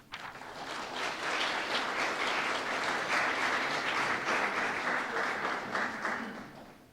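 Sustained audience applause welcoming a guest lecturer at an evening speaker series, steady, close clapping from a hall full of people that swells quickly, holds, and tapers off at the end.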